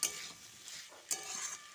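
Papaya, potato and chickpeas frying together with spices in a pan, quiet sizzling broken by repeated stirring scrapes of a spatula, close and without talk.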